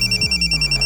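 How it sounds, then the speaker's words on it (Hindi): A telephone rings loudly and close by with a rapid, pulsing electronic trill that repeats in quick even bursts. "सर नागपुर से शकील का फोन है।"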